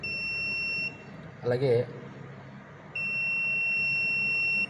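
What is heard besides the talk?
buzzer sounding from flame sensor on ARM Cortex M3 board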